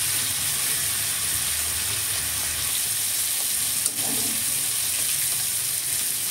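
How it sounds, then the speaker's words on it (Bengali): Steady running water pours and splashes while Gobindobhog rice is rinsed in a kitchen, a constant close wash of sound with one small clink near the middle. "দুবার ভালো করে জল দিয়ে ধুয়ে জল ছড়িয়ে রেখে দিচ্ছি।"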